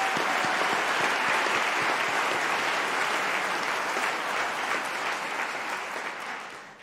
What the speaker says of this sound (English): And just a very quick round of applause for our excellent orator today